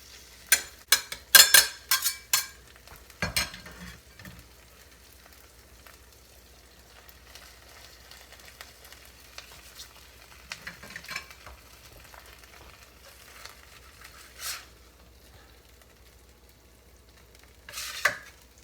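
Pepperoni pizza steak with cheese and marinara being stirred and frying in a pan, a few scraping stir strokes early on over a faint steady sizzle, then mostly quiet cooking with occasional clinks.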